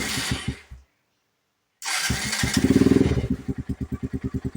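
Lifan KP Mini motorcycle engine fresh from a valve adjustment cranks briefly, falls silent, then catches and fires into a close, loud, rhythmic idle with steady pulsing beats.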